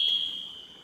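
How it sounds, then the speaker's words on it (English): A smoke or fire alarm sounds during tornado warnings, giving a single piercing, steady high-pitched electronic tone that holds for under a second and fades slightly, with no voices. "the alarm is going off"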